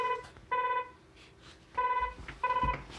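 Phone ringing on an incoming call from a VPN phone extension: three repeated electronic ring bursts with short gaps between them, clear and moderately loud over a quiet room.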